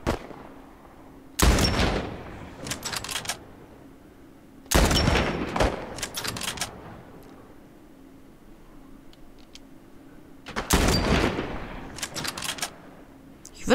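Gunfire in The Last of Us, heard as three loud, sharp bursts of shots spaced a few seconds apart, each followed by a short decaying tail over quiet game ambience.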